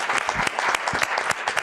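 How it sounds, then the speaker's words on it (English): Audience applause for a panel of speakers at an academic data symposium, a dense, steady wash of many hands clapping close by, running the full short stretch without a break. "Just a big round of applause for all our speakers on that panel."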